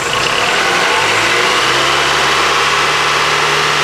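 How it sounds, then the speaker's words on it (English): A car engine revs up and is then held at a steady 1500 RPM while the cooling system is bled, giving a loud continuous mechanical drone with a low steady hum. "Other things you can do is also rev the engine and keep it at,"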